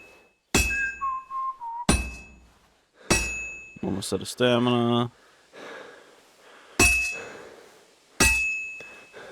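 Hammer strikes metal on an anvil during blacksmithing in Kingdom Come: Deliverance II, several sharp ringing clangs spaced a second or two apart with game chimes and brief speech between them.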